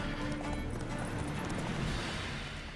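Horse hooves clop in The Witcher 3 video game, a quick, faint run of hoofbeats mixed into low in-game ambience.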